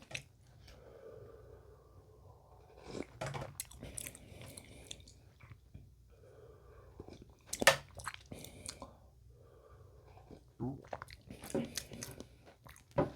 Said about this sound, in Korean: 국물도 한번 먹어볼게요.